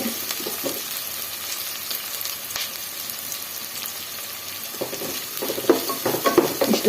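Mustard seeds and spices sizzle and crackle in hot oil as tempering for moong dal sambar, a steady frying hiss with occasional stirring scrapes, close and fairly loud, no talking.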